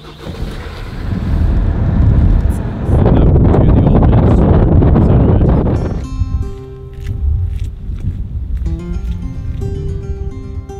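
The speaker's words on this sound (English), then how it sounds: "Gusts of wind." Strong gusts of wind buffeting the microphone outdoors on the Isle of Skye in winter, a loud roaring rush for several seconds that then drops to a quieter, steadier breeze.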